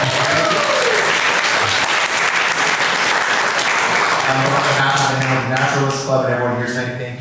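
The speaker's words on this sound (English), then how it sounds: "One last round of applause." Loud, sustained applause from a naturalist club meeting audience, steady clapping throughout that fades slightly at the end, with some voices mixed in.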